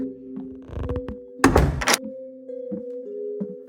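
An office door swings shut with a single heavy thunk, followed by faint clicks of the lock. A steady tonal hum runs throughout the room.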